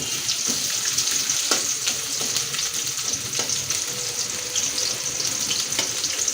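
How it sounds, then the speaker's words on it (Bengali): Two tablespoons of chopped onion fry in hot oil until light brown, giving a dense continuous close-up sizzle with a few light stirring scrapes and no talk. "আমি পেঁয়াজ কুচি এখানে দুই টেবিল চামচ দিয়েছি এটাকে হালকা ব্রাউন করব"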